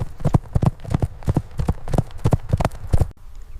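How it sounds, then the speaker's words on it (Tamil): A horse's hooves clip-clop in a steady, brisk trotting rhythm, loud and close, with no speech, before the sound stops abruptly near the end. "ஹார்ஸ் குதிரை."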